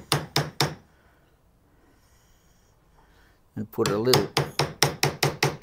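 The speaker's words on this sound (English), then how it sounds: "It's just a center punch." A metal center punch is struck repeatedly with a hammer into wood, sharp close knocks in a quick rhythmic series at the start and end, with someone speaking briefly in between.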